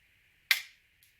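A single sharp, muffled pop from a suppressed firearm stands out against a steady background hiss, followed by a much fainter second pop about half a second later.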